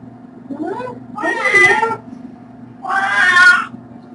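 A kitten meows repeatedly, three drawn-out plaintive cries with short pauses between them, close by.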